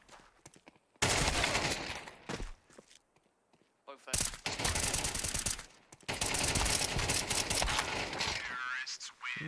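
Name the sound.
gunfire in video game Counter-Strike 2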